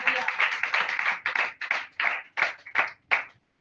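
A church congregation clapping their hands together, loud, close bursts of applause in an uneven rhythm that break into shorter separate claps and stop near the end.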